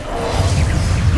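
An Incendio fire spell is cast in Hogwarts Legacy, a short loud whooshing flare of flame that fills a brief moment over a dense low rumble.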